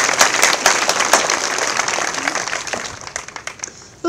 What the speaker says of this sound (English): Round of applause for all of our guests.